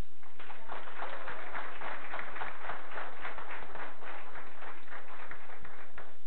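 An audience at a school board meeting gives steady applause for student award winners, a dense patter of many hands clapping at moderate distance over a low background hum, with no speech.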